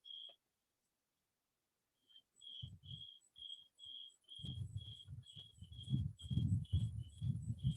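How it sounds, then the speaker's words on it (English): A cricket chirp sound effect repeats in a steady series of short, bright trills, with low thumping pulses underneath, after a brief silence at the start. "Cricket sound."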